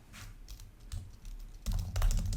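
Keys tapped on a computer keyboard, a run of light clicks that ends in a louder burst of presses, including the return key, close by with no talking.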